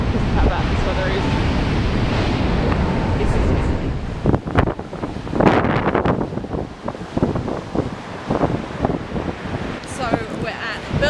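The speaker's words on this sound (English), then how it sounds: "we're just looking at the waves. And it's really, really, really windy" Ocean waves and strong wind at the Seven Sisters chalk cliffs on the English coast, with heavy wind buffeting the microphone and surging surf breaking near, while people talk throughout.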